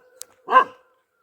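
Jackie, a dog in a hill home, lets out one short, sharp bark close by after a faint tick, then silence.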